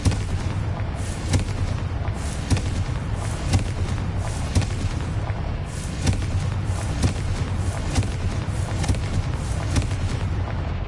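Confringo blasting-spell explosions in Hogwarts Legacy go off as a continuous barrage of heavy, booming blasts, with sharper repeated impacts spread across a loud, rumbling game soundscape.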